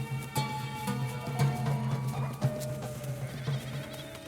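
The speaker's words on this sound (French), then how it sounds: "Nous rejoignons des troupeaux de chèvres et de moutons." Mixed herd of goats and sheep bleating together in the desert, many overlapping calls near and far over a steady livestock din, no talking.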